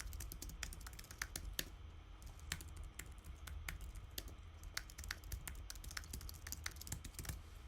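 Quiet, steady clicking of a computer keyboard as details are typed into a web form, a rapid irregular stream of light keystrokes heard close up with a low hum underneath and no speech.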